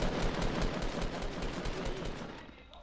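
Rapid bursts of Fortnite gunfire crackle continuously, dense automatic shots with a few sharper reports, fading slightly toward the end.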